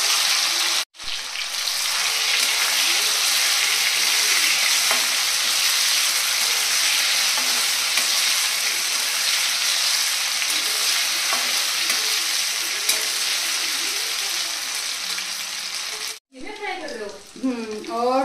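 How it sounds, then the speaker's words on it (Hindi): Gatte dumplings fry in a pan with a loud, steady sizzling hiss that runs unbroken for about fifteen seconds, then cuts off as a person begins talking. "और अब मैं फ्राई कर रहा आपा गट्टा।"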